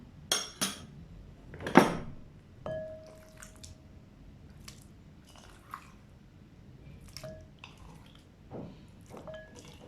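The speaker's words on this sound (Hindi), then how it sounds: "इसमें चिकन डालेंगे।" Raw chicken pieces go into a bowl for marinating, wet squishy plops and a few sharp clinks of bowl and utensil, close up with quiet gaps in between.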